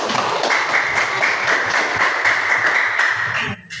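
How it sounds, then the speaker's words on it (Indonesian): Students in a classroom clap together on cue after a lesson exercise, a dense, steady burst of hand claps that holds for about three seconds and then stops abruptly. "Oke, tepuk tangan dulu."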